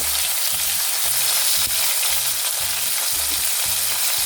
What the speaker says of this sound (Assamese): মই আলু পিটিকিৰে সৈতে মাছে সৈতে একেলগে গোটেইখিনি ভাজ খাই যাব